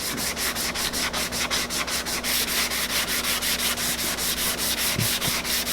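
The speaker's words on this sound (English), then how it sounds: "Sanding down, it's coming pretty good so far." A 220 grit sanding block is rubbed by hand over body filler on an Evo 8's front end, a close, steady rhythmic scratching with regular back-and-forth strokes about four per second.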